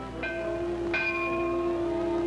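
Two separate rings of a bell signal boarding for a Pan Am Clipper flying boat on the trans-Pacific route, each strike clear and ringing out with a sustained tone over a steady background.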